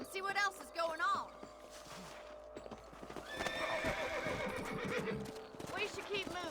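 Horses in the Western game Red Dead Redemption whinny several times and clop steadily at a trot, close and fairly loud, with game music and a voice speaking over part of it.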